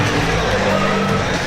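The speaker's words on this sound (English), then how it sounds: "Listen to this ovation." A wrestling crowd at a Zero1 USA event roars in a dense, steady ovation, a loud broadband wash of cheering that fills the whole moment without pause.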